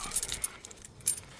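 Chrysler/Dodge SKIM transponder car keys jangle close by in a short burst of bright metallic clinks, with a second jingle about a second later and no voices.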